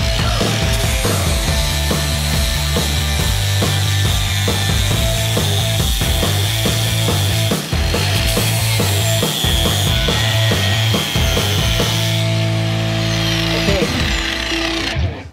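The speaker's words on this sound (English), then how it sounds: "now we're just gonna take the grinder and grind it all down flat" An angle grinder grinds a weld flat on a 1965 Ford Falcon, a loud, continuous close-up metallic whine with shifting pitch as the disc presses into the steel, running steadily for the whole stretch before cutting off at the end.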